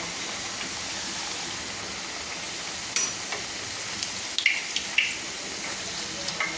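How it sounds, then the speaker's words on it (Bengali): Luchi, puffed flatbreads, frying in oil over low to medium flame, a steady soft hiss with a few faint crackles and light clinks, close by and free of talk. "এইভাবে ভেজে নিতে হবে লো ফ্লেমে"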